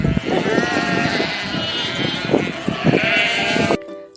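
Sheep bleat in a pen, several animals calling over one another in a dense, continuous chorus that breaks off abruptly into near silence at the end.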